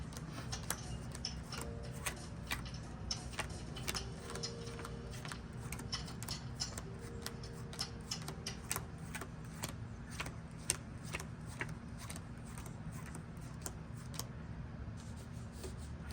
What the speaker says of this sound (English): we're going to go back and forth until all the cards are dealt